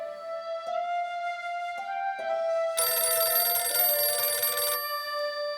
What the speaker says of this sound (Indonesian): Tolong teleponnya diangkat, Bu.